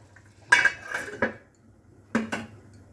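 Metal lid set down on a pot of potatoes boiling in water, a few sharp clanks and rattles close by, with a short pause before a second clatter.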